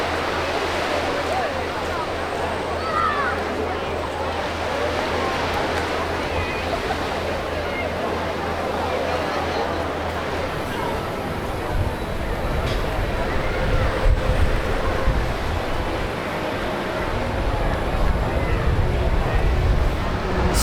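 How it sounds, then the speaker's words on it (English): Packed morning beach in Benidorm on the Poniente side, with a steady wash of surf and waves under a constant murmur of distant crowd chatter, fairly loud and continuous throughout. "It's only early, but the beach is absolutely packed already, and what a gorgeous beach it is."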